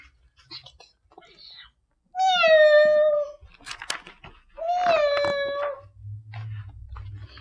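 A voice imitates a cat: two drawn-out, wavering meow-like calls with short pauses and quiet sounds between them, read from a children's story.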